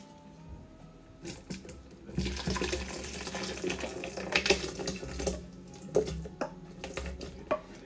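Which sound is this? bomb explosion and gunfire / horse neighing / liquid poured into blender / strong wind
liquid poured into blender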